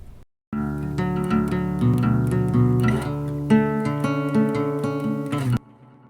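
An acoustic guitar, centered and without delay, plays a short strummed and picked phrase, clear and upfront, ringing for a few seconds before stopping abruptly.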